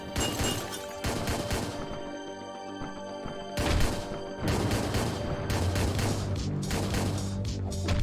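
Gunfire in the top-down action game Hotline Miami 2 comes as sharp, loud clusters of shots and crashing impacts in separate bursts over a steady game soundtrack.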